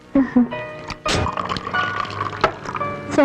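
Soda poured into a glass: a close, steady rush of fizzing liquid running for a few seconds, with small splashy bursts along the way.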